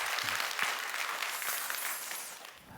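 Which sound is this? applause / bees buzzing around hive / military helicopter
applause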